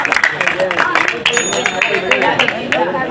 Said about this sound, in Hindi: इनका इस्तकबाल तालियों से करें